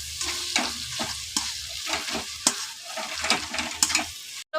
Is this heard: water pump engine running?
no